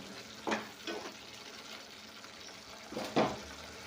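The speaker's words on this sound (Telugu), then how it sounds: "ఈ పచ్చి వాసన పోయేంత వరకు వేపుకోవాలన్నమాట" A tomato mixture fries in a pan until its raw smell cooks off, with a soft, steady sizzle. A few brief scraping stirs break in, and no one speaks.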